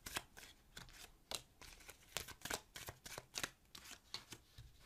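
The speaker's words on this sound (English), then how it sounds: "I'm going to pull the bottom of the deck. I'm also going to pull two cards here." Tarot cards are pulled and shuffled from a deck, giving a close, crisp series of papery slaps and riffles in an uneven rhythm, with no talking.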